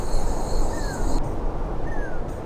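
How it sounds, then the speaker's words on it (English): A long-tailed manakin call in the video game Skyrim, two short rising whistled notes about a second apart, faint over a steady loud bed of insect-like chirring and ambient noise. "I noticed 4: long-tailed manakin,"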